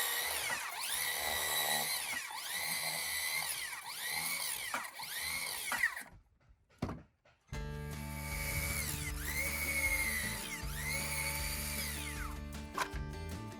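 A 40-volt 165mm cordless circular saw cuts in repeated whining bursts that rise and fall, with a brief pause around the middle before the cutting resumes loud and close on a carpentry job building over an open foyer.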